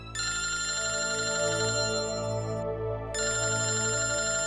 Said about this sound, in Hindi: आदि के स्कूल से फोन।